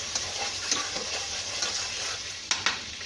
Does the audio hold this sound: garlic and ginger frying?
yes